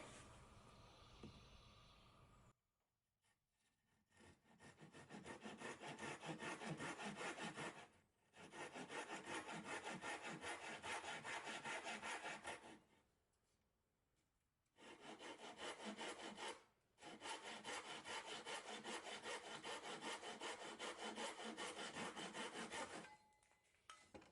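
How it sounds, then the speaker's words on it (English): Hand saw cutting clamped wood for a birdhouse renovation, three long bursts of rhythmic rasping back-and-forth strokes separated by short pauses, close and clear with no talking. "I clamp it down. Get out my saw."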